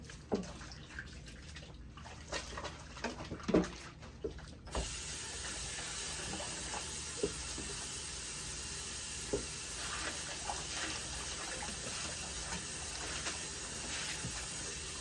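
Running water rinsing a curly bob wig, a steady hiss of flowing water with scattered handling knocks and splashes, close and fairly quiet throughout, with no one speaking.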